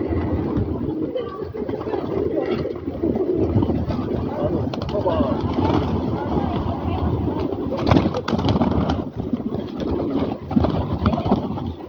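City pigeons cooing close by, soft repeated throaty coos over a busy urban background with traffic rumble and some movement, no clear talk.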